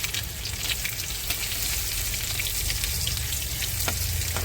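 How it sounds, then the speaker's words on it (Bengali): Crushed garlic sizzles steadily in hot oil in a pan, added after mustard seeds and dried red chillies while cooking red amaranth greens with prawns; a continuous close frying crackle with no talking. "এবার দিয়ে দেবো থেঁড়ে করে রাখা রসুন"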